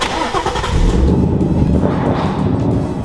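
A car engine rumbles loudly and revs as the vehicle backs up, a low steady roar with rising and falling surges, close by.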